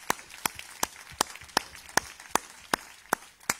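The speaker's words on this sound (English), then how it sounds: "let's give him a round of applause" Applause at a church service: a sparse, evenly spaced series of about ten distinct claps in a steady beat, fairly close, over a quiet room background.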